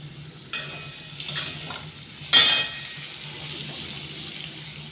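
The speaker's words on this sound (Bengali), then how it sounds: "আলুগুলোকে লাল লাল করে ভেজে নেবো" Potatoes frying in hot oil in a wok, a steady close sizzle with a sudden louder hiss burst midway and occasional scraping, no voices.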